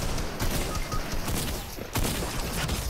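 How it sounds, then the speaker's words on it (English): Gunfire in the video game Fortnite, a dense, continuous barrage of shots at moderate loudness lasting the whole few seconds, with no talk over it. "someone's hitting me with their tickle gun"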